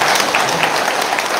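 An audience clapping loudly at a lecture, a dense continuous wash of applause filling the whole moment with no gaps.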